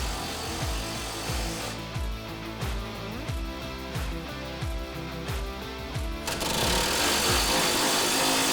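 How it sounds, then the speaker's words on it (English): Rapid rattling impact-driver bursts tightening the nuts that fasten a BOSS snowplow spreader to its mounting bracket, loud and close with a pulsing hammer rhythm, followed by a broader whirring noise near the end. "Tighten the 4 1/2-inch nuts to secure the spreader to the mounting bracket."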